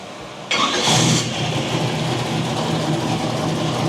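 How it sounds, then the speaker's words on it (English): A Blueprint 350 crate engine cranks briefly, then fires with a loud surge and settles into a steady, even low idle that carries on alone to the end. "This thing's idling at about 650 for our little Blueprint 350 crate engine."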